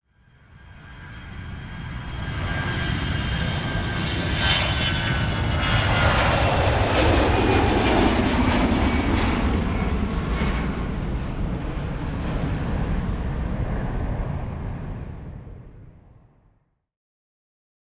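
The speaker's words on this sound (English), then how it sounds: "The plane passes the tower, which confirms that the landing gear has not been deployed" A FedEx cargo plane passes low over an airport control tower with its landing gear up, its engine roar swelling from faint to loud, holding for several seconds, then fading away to silence.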